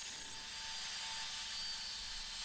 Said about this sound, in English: So then the sander again, so cleaning up the sides